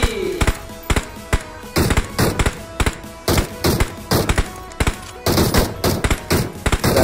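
Rapid gunshots from the mobile battle-royale game PUBG (Peacekeeper Elite), sharp repeated cracks in short bursts and single shots, close and punchy, with occasional game sounds between.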